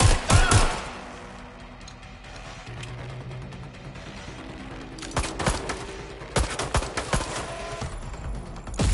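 Gunfire in Watch Dogs: Legion, with loud bursts of rapid automatic fire at the start and again in the second half, separated by a quieter stretch of background ambience.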